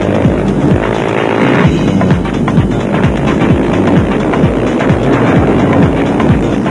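Off-road motorcycles, including a 380 KTM, race along a fast, dry section of the Sugarbelt 400 route in South Africa. A loud, rough engine roar carries throughout, with rapid throbbing pulses and a broad wash of wind and gravel noise.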